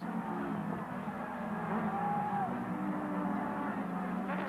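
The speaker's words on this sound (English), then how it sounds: "Briggs is still ahead of the BMW down the pit straight" Touring cars, including a BMW, racing down the pit straight at Kyalami in South Africa, a steady roar of engines at a fairly distant, even level with a brief rising whine in the middle.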